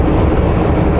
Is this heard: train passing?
yes